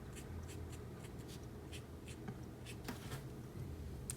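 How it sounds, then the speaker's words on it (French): Colored pencil, blue, being worked across paper while shading a small bus drawing, a steady soft scratchy scraping with light rhythmic strokes, quiet and close, no voices. "avec un bleu un peu plus vif, on vient colorier certaines parties à ce niveau-là"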